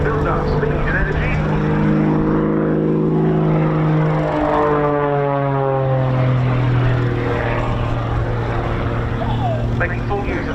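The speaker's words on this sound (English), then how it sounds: "Making full use of the in excess of 300 horsepower at this aircraft's disposal." A propeller aerobatic aircraft of over 300 horsepower and about 700 kg flying weight dives at the RAF Cosford 2024 air show. Its engine drones loud and steady, the pitch sliding down and then rising again as it builds speed.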